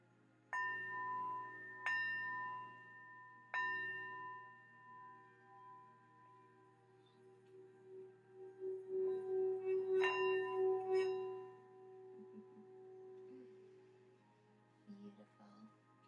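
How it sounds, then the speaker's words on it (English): A small bell struck three times in slow succession, each ring decaying into a long sustained tone. Later a shimmering ringing rises and fades, with quieter sounds near the end. "And I'm going to ring my bell here."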